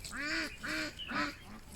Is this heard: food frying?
no